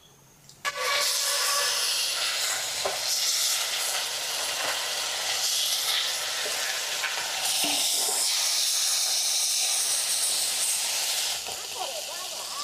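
Small desi crabs fry in hot mustard oil with a little turmeric, a loud, steady hissing sizzle bursting in after a brief quiet start and roaring on without pause to the end.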